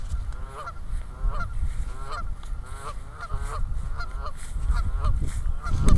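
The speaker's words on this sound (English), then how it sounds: "Those are geese right there." Geese honk outdoors in springtime, a series of repeated nasal calls at moderate distance over low rumbling wind and background noise, growing busier toward the end.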